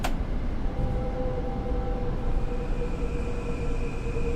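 A Metro-North commuter train in Train Sim World runs along with a steady, dense rumble and hiss, faint tonal whines drifting above the continuous noise, even and unbroken from start to finish.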